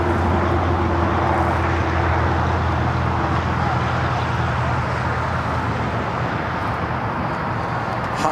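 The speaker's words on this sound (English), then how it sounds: "Switburn getting ready for a south side takeoff" A jet airliner rolls for takeoff at Los Angeles International Airport, heard as a loud, sustained broadband engine roar with a steady low hum underneath, and a voice talks over it.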